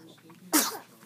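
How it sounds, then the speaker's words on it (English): A baby gives a single sharp, close sneeze halfway through, preceded by quiet background sound and followed by a brief soft vocal tail. "He sneezed on me."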